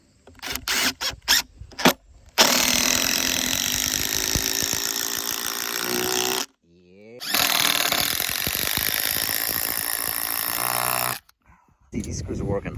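A power drill drives 6-inch screws into a wooden live edge bench, a few short bursts followed by two long loud grinding whines separated by a brief gap, close up with talk around them.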